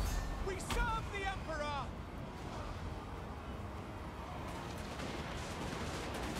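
Artillery fire and battle noise in Total War: Warhammer, an Empire versus Dwarfs fight targeting a Skyhammer: a few sharp, loud shots early on over a steady, dense rumble of combat, with a voice speaking underneath.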